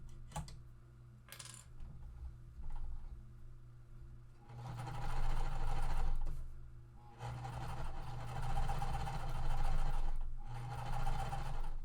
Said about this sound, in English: Okay, we'll stitch them together.